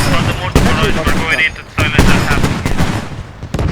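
Tank cannon fire and battle noise in an armored combat video game, dense loud bursts and blasts in quick succession, with voices shouting over the gunfire.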